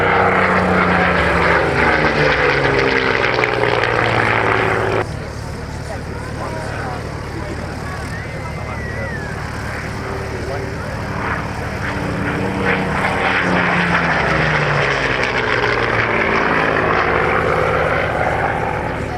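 Hawker Hurricane, a propeller-driven fighter, flying at an air show, its engine drone loud and steady at first, then easing and rising again as it passes, with an announcer speaking over it.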